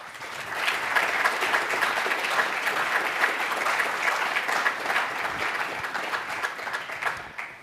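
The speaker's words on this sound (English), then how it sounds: "Round of applause." A health equity event audience breaks into sustained applause, dense and fairly loud clapping from many people that holds steady for several seconds without talk.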